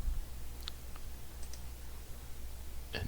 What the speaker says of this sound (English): we're going to open this up by right clicking on it